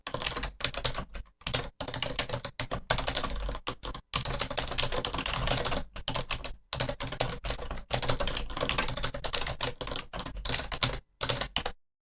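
Rapid typing on a computer keyboard as a rule name is entered, with close, crisp key clicks in quick bursts separated by brief pauses.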